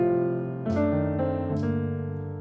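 Gospel piano plays a chord progression in minor 7 voicings, three sustained chords struck in turn with soft attacks and ringing overtones, alone and close.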